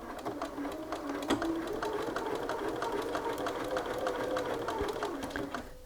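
A home sewing machine stitches a set-in sleeve on an Archer shirt, running as a steady close whirring hum with a slight rhythmic chatter throughout, no pauses.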